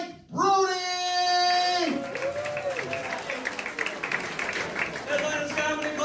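A comedy club crowd in Atlanta applauding a comedian: a dense, fairly loud clapping roar that swells quickly, then continues under a voice speaking over it.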